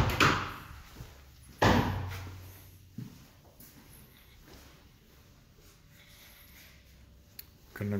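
A closet's double doors in a house are handled, giving a couple of sharp knocks and a thud early on, then softer taps and a final bump against faint room noise.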